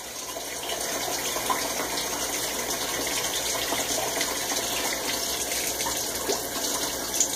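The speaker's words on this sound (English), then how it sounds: "Sometimes you have to let the water run for a little bit." Hot tap water pours steadily from a kitchen faucet, a constant close rushing gush that keeps going for the whole stretch with no talking.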